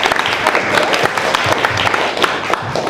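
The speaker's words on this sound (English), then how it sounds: "I think Libby deserves a clap for that." A small audience at a community discussion claps together, a dense and fairly loud burst of applause lasting a few seconds with a voice or two mixed in.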